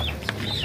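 A chicken at a busy poultry market gives a short, close cluck that rises above the crowd's murmur and stall noise, and voices talk nearby.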